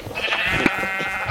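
A sheep bleats in Minecraft on the Mineplex server during a Turf War match, a short wavering call heard close and clear over light game noise, with no talking.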